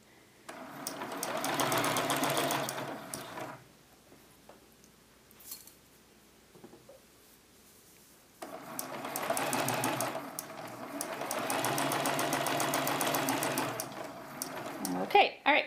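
Sewing machine stitching down three sides of quilt pieces for a quilted tic-tac-toe game, running in two long steady bursts separated by a quiet pause, close and fairly loud.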